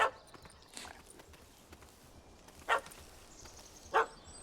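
A puppy barking in The Witcher 3, a few short, separate yaps spaced apart over quiet game ambience, fairly close.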